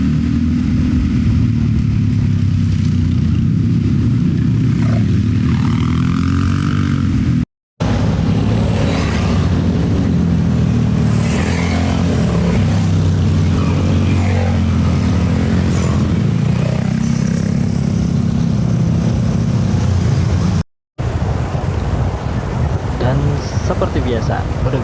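A motorcycle accelerating on a touring ride toward Garut Selatan, a loud continuous engine roar with wind buffeting and rising revs, broken by two brief dropouts.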